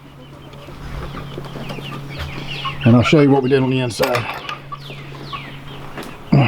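Chickens cluck and murmur softly in the background in a backyard coop, with someone speaking briefly over them partway through.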